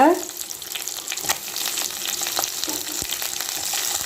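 Steady sizzling of onions and tomatoes sautéing in a pan, with occasional stirring clinks, continuous and close.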